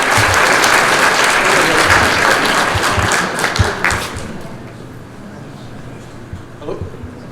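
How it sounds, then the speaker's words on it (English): An audience at a rural crime town hall applauds for a minister, loud sustained clapping for about four seconds that then fades to scattered claps and room noise. "So we give a big round of applause for our minister"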